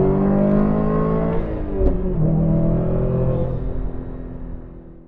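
A tuned Stage 3 Plus Subaru WRX STI with a 20G turbo pulls hard in third gear, its engine note rising steadily in pitch under load, loud and close from inside the car.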